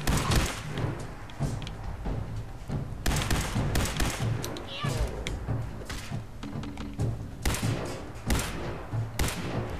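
Rapid bursts of gunfire from shooting at an enemy in the Fallout 4 video game, loud repeated shots and thuds in clusters over a dense, busy game soundscape.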